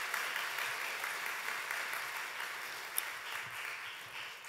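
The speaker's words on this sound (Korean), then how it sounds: "감사의 박수 드리겠습니다." Applause from a church congregation at a New Year revival service, an even, continuous patter of many hands clapping at moderate distance, with one sharp clap near the end before it tapers off.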